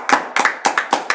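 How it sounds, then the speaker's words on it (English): Hands clap in five quick, evenly spaced bursts during a podcast recording, each clap sharp and close with a slight doubled attack, as if from a couple of people in the studio. "If you're on my live, let's clap."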